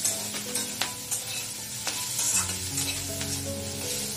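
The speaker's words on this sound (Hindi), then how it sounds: "थोड़ा सा कैप्सिकम को भून लेंगे।" Capsicum roasts in a hot pan for achari paneer, a close, lively sizzle with quick spatula clicks and scrapes as the pieces are turned, with no talking.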